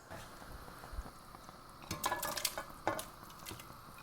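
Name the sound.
stirring lamb stew in a pot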